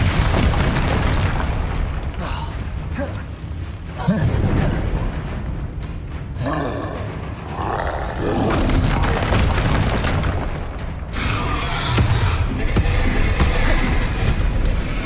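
Repeated Confringo explosive spell blasts from the Hogwarts Legacy video game boom and burst loudly, one after another, over a dense, busy game soundscape of combat effects.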